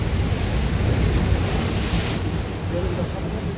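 Large ocean waves breaking at Songjeong beach in Korea: a continuous heavy rushing roar of surf with strong wind buffeting the microphone, loud and close throughout, with no speech.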